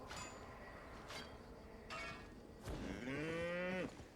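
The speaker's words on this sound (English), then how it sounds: "At first, when I learned about Oxes in that game" An ox in Albion Online gives a drawn-out low moo near the end, preceded by a few sharp clinks and thuds in a quiet game scene.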